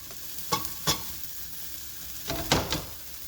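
Venison and mushrooms sizzle in a hot pan for Korean bulgogi-style cooking, with a steady frying hiss broken by a few loud scraping stirs.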